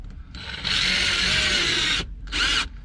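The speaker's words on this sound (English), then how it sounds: "I'm just gonna drill some pilot holes in these 2x4s just so the screws go in a little easier" A power drill whines steadily as it bores pilot holes into 2x4 lumber, stops briefly, then bursts back on for a short second run.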